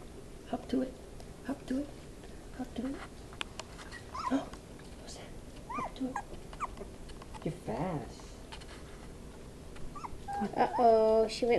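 Miniature Pinscher puppies whimper and yip in short, thin bursts scattered through the clip, with soft voices talking nearby and a louder, higher-pitched cry near the end.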